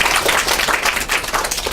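An audience claps after a lecture presentation in a university class. The applause is steady and brisk, with many hands patting at once and no voices over it.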